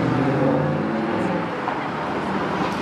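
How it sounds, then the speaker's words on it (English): A classic car engine runs with a loud, steady, throaty rumble close by, holding a continuous drone with slight shifts in pitch, no speech over it. "You're not going to get that sound in a modern-day supercar."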